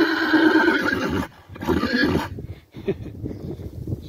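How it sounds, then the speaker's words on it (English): A paint horse with a stripe on her face whinnies loudly and close, two long quavering neighs separated by a short gap, followed by quieter snorting and shuffling sounds. "she's a pretty horse"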